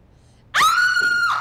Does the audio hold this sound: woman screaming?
yes